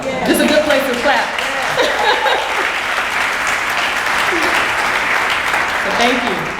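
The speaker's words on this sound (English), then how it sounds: "This is a good place to clap" Applause from an audience at an SBA 70th awards ceremony, a full room clapping steadily, with some laughter and voices mixed into the sustained clatter.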